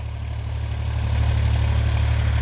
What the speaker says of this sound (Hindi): ये जो आप देख रहे हैं खेत में ट्रैक्टर रोटावेटर चल रहा है